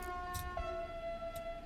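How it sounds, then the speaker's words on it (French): A TGV Duplex train horn in Train Sim World 2 sounds as a sustained tonal blast heard from inside the cab, with a low rumble and faint ticks underneath. "je peux vous montrer le klaxon, enfin l'avertisseur sonore"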